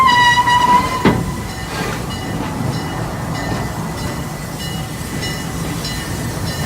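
Serengeti Express theme park train rolling along the track, a steady rumble and rattle with a brief horn-like tone near the start, close and continuous.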